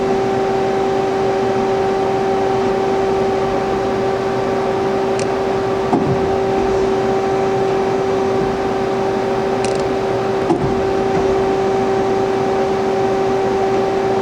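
The turret indexes on a YOU JI YV-500EL vertical turning center, heard as two short clunks over the machine's loud, steady hum.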